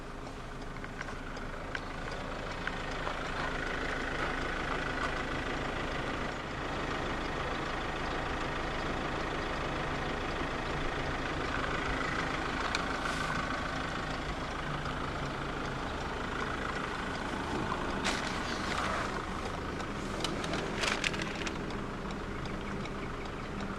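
A 2015 Ford Ranger 2.2 diesel 4x4 XLT double cab idles steadily after start-up, a constant even engine drone with a few brief clicks and knocks, no talk.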